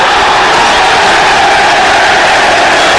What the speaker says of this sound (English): the big applause you can hear is because the decision has gone Arsenal's way